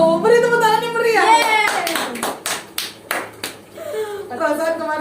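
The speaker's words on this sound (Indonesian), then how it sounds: "beri tepuk tangan yang meriah" Hands clap in a short, close burst between people talking, some speech carrying a sing-song intonation around the claps.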